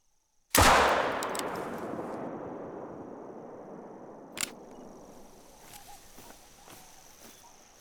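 A single sharp gunshot from a .357 revolver in the hunting game theHunter: Call of the Wild, a loud crack followed by a long rolling echo that fades over several seconds, with a faint click afterward.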